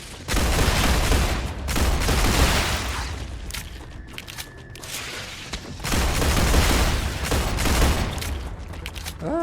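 A gun fires at enemies in the StarRupture video game, producing sustained bursts of rapid shots with booming impacts in two loud stretches, separated by a quieter lull.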